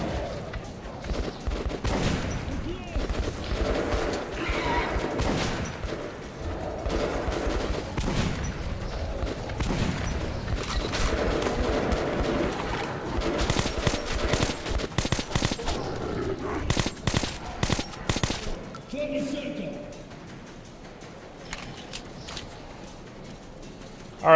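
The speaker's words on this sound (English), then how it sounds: "Where do those other bullets come from?" Gunfire in the video game Metro, with bursts of shots and bullet cracks spread across a busy, noisy stretch, loud and frequent through most of it before thinning out near the end.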